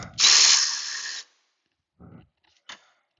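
Power tool spinning off a 15mm fuel tank strap bolt on a 1995 Chevrolet Camaro, one loud whirring burst of about a second, then a couple of short faint mechanical clicks and a brief tap.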